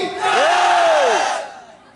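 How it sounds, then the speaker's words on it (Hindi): Men in a church congregation shout a loud, unified praise to Jesus, one sustained collective cry rising and falling over about a second and a half, close and crowd-like, then fading. "खाली भाई लोग बोलेंगे, बहन लोग नहीं बोलेंगे। बोलो यीशु महाराज की।"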